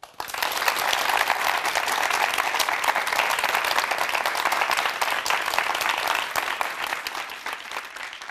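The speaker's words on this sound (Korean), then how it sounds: "최무진 형제에게 다시 한번 뜨거운 박수 보내주십시오" A church audience applauds warmly after a testimony at a Korean Christian broadcast event, steady dense clapping filling the room from start to finish.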